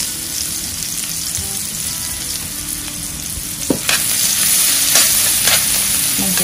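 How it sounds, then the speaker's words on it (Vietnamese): Minced garlic frying in butter and oil in a pan for a crab dish, giving a steady close sizzle with occasional stirring scrapes and louder crackles in the second half. "Mình sẽ cháy phần tỏi này cho nó vàng luôn nha."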